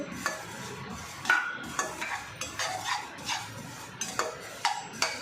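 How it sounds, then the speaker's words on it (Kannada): Sesame seeds roasting in a pan over a medium flame, stirred with a utensil: irregular scraping clicks and light taps against the pan over a faint crackle, close and fairly quiet, with no talking. "ಇದನ್ನು ಎಳ್ಳು ಹುರಿತಾ ಇದ್ದೀನಿ ಎಳ್ಳು ಮತ್ತು ಗಸಗಸೆ ಬೇಕಾದರೆ ಒಟ್ಟಿಗೆ ಹುರ್ಕೋಬೋದು"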